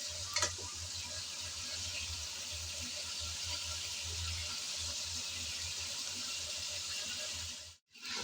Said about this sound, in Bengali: নেড়ে চেড়ে আমি ফুলকপিটাও ভেজে নিলাম।